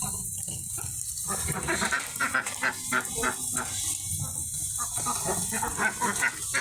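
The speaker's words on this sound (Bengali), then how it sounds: "হাঁসগুলা বের হওয়ার জন্য কি অবস্থা, ডাকছে।" Ducks kept indoors during days of rain call out to be let out, a steady run of honking, quacking calls close by over a constant hiss of rainfall.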